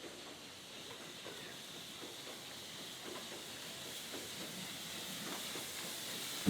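Steam hiss from Steamrail Victoria K class locomotives K190 and K153 working a push-pull shuttle between Reservoir and Mernda, a steady broadband hiss held for several seconds at moderate distance, with a brief sharper burst at the very end.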